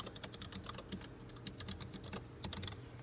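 Keys clatter steadily on a lighting console keyboard in a church sanctuary, a quick run of close, crisp taps with short pauses, no voices present.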